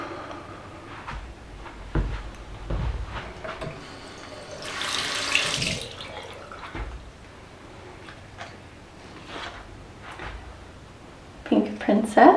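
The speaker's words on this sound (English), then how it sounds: "I'll just give them a rinse out so they look cleaner" Plant propagation vessels are rinsed under a running kitchen tap, with short bursts of gushing water around the middle and at the end against a quiet room and faint voices.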